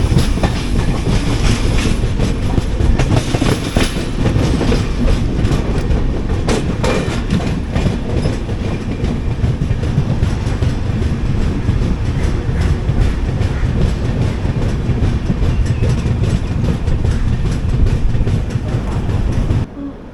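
The 12686 Mangalore–Chennai Superfast express train runs steadily for the whole stretch, with a loud, continuous rumble and rhythmic clickety-clack of the wheels and carriage noise close by, and no voices.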